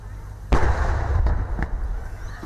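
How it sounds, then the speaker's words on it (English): A 21-gun salute at an Australia Day flag-raising ceremony at the Jazeen Barracks: a loud, booming blast followed by further spaced reports, each trailing into a long rumbling echo outdoors. "A 21-gun salute rounding out the event at the Jazeen Barracks."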